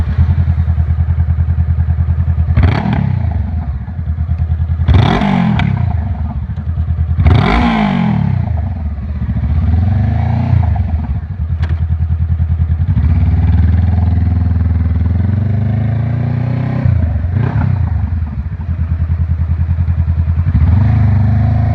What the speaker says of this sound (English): what the 2013 CBR500R sounds without a muffler and only the header and the mid pipe